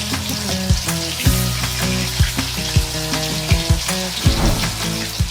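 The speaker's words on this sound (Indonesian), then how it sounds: "untuk menggoreng geduk singkong isi jantung ayam iki" Steamed cassava geduk stuffed with chicken heart frying in hot oil, a steady close sizzle with repeated soft bubbling pops and occasional stirring knocks throughout.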